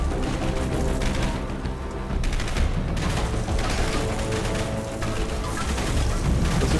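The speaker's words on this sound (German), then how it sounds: "Das sind wieder diese komischen Psychogranaten." Psycho grenades going off in the shooter game Dark Sector, a dense clattering barrage of bursts and mechanical rattling that runs without a break and loud throughout.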